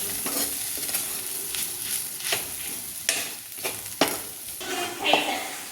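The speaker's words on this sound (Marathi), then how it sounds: "वाटण चांगलं व्यवस्थित परतून घ्यायचं, जेणेकरून त्याचा कच्चा फ्लेवर कमी होईल." A coarse ground spice paste sautés in oil in a pan for a village-style pigeon pea curry, with a continuous soft sizzle broken by several sharper scraping strokes of the spoon as it gets stirred.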